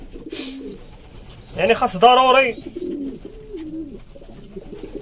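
Homing pigeons coo softly in a loft among young squabs nearing weaning, a short low burst rising in the middle while someone speaks over them.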